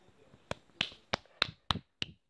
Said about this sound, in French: Arrête d'applaudir.